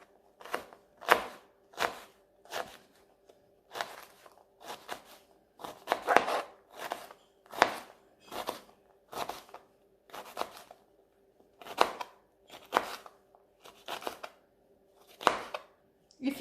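Knife chops through a jalapeno on a cutting board in steady, evenly spaced crisp strikes, about a dozen and a half close-up cuts dicing the pepper into small squares, with no talking.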